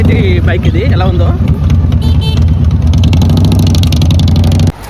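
A Texas chopper motorcycle engine runs with a loud, steady low rumble throughout, with voices talking over the first part, before the sound cuts off abruptly near the end.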